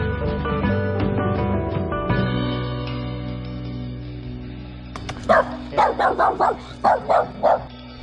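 A dog barks in a rapid burst of about eight loud, close yips and barks, following a stretch of sustained music with no barking.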